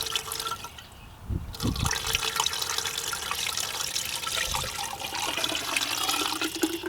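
Water pours steadily into a car's fire suppression system container with a rushing, splashing sound and a few deeper gurgles, continuing throughout at moderate volume.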